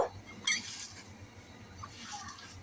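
Potatoes and onions with salt are stir-fried in a pan, giving a few faint metallic clinks and scrapes of a utensil against the pan over a quiet background.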